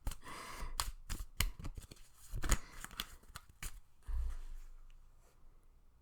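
Tarot cards being shuffled by hand: a quick series of crisp papery riffles and flicks in irregular bursts, close and fairly quiet, ending with a soft thump and fading rustle.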